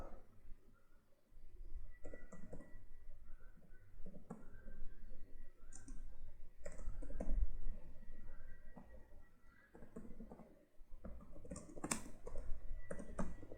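A computer keyboard clatters with quick irregular bursts of key clicks while an address is typed into an online form, close and fairly quiet, with short pauses between runs of keystrokes.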